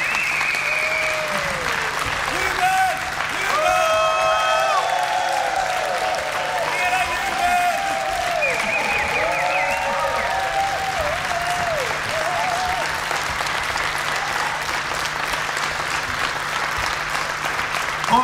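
A concert audience at the Melting Point Festival applauds and cheers loudly and steadily, with whoops and shouts rising over dense clapping that carries on throughout.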